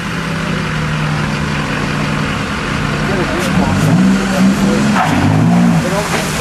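An off-road vehicle engine revs hard and rises in pitch as tires spin in a reverse burnout at a 4-wheel jamboree, with shouting voices over the roaring motor.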